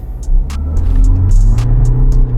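A car held on brake and throttle for a standing start gives a steady, close, low engine throb and hum, with a few light clicks above it and no voices.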